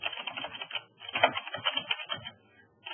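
Typing on a computer keyboard while entering a query, a dense run of close, quick clicking keystrokes with brief pauses and a quieter tail near the end.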